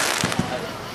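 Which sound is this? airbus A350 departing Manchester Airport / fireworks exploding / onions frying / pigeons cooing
fireworks exploding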